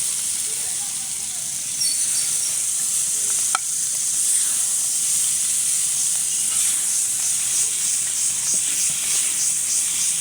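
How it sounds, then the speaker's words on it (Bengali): Shredded cabbage sizzles and hisses steadily in a pan over low heat on a stove, a continuous close frying sound with a single sharp clink partway through. "খুবই আস্তে জালে আর কি ভাজা ভাজা করে নিলাম"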